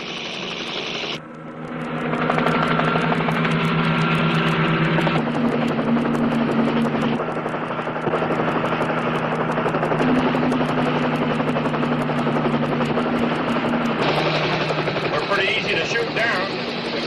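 Two helicopters fly side by side, giving a loud, continuous close rotor thrum and engine whine that builds after a brief dip and then holds steady throughout.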